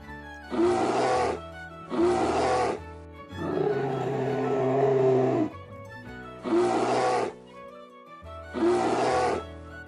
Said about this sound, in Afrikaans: Dit is 'n beer.